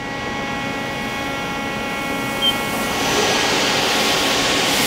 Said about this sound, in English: And we'll run the spindle.